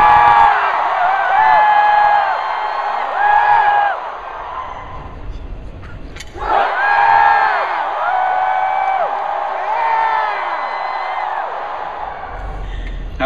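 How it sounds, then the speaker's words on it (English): A packed Comic Con panel audience at the TRON: Legacy session erupts in a big sustained cheer of screams and whoops, drops briefly, then roars again, loud and dense throughout. "give me the biggest cheer you can as soon as I lift my hands up"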